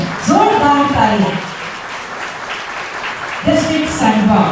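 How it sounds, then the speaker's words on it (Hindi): A crowd at the launch of a district medical technology programme in Jharkhand claps for a guest in a short burst between stretches of amplified speech. "झारखंड राज्य से इसकी शुरुआत हो रही है, जोरदार तालियां"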